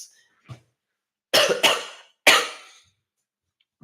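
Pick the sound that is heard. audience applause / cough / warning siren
cough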